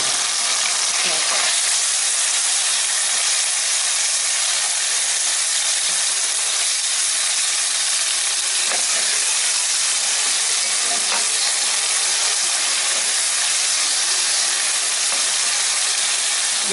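Alexandrian-style liver dropped all at once into a hot pan gives a loud, steady sizzle that hisses without a break the whole way through, with no voices.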